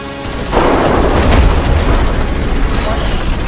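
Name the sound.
grenade explosion and gunfire in Starship Troopers Extermination video game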